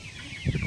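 A brief, soft clucking from a chicken, close by, a couple of quick low notes.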